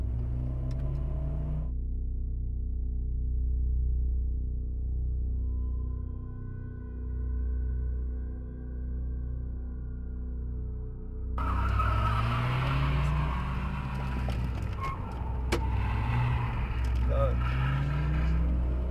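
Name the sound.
car making a quick U-turn to escape, dashcam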